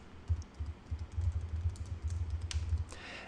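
Soft, rapid keyboard typing clatters nearby in quiet bursts as a Python class called Vector is written, the keystrokes uneven and closely spaced.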